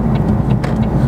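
McLaren 570S Spider engine on an on-ramp, a loud steady low drone heard from inside the open car with little else over it.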